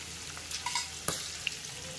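Green chilies and peppercorns frying in oil in a pan: a soft, continuous sizzle, with a few small pops and crackles and a light stir near the middle.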